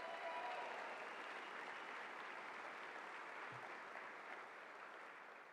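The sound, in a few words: audience applause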